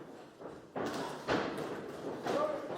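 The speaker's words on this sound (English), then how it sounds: "Solid shots coming in there by Scott Harrison." Boxing punches from a professional fight between Scott Harrison and Paul Peers land as several dull thuds at irregular intervals amid arena crowd noise, with commentary running over the top.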